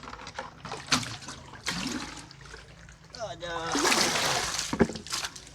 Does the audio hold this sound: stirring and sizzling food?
no